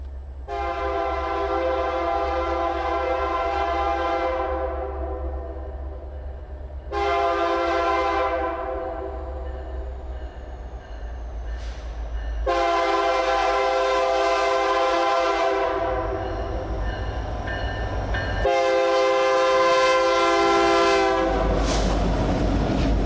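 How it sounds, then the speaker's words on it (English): A Canadian-rebuilt SD70ACU road locomotive leads a Mississippi-bound mixed freight, sounding loud horn blasts in four long bursts over a steady rumbling engine drone, close by. "Another Canadian rebuild is on the point of this Mississippi-bound mixed freight, but this time it's a much larger road engine classified as a SD70 ACU."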